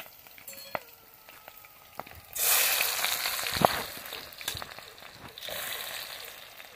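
Korramatta fish curry sizzles loudly in a pan over a village wood fire, a steady hiss that starts abruptly after a quiet lead-in, with a sharp clink and frying continuing throughout.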